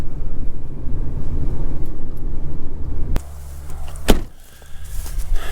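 A truck drives between rows of young trees in a cleared field, a steady engine rumble from inside the cab that drops off partway through, followed by a sharp knock or door-like thud.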